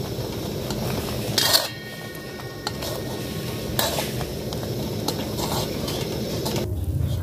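A spatula stirs a coconut and sugar mixture with milk in a hot pan, making soft scraping strokes and a few sharper clinks over a low, steady sizzle, nearby and without speech.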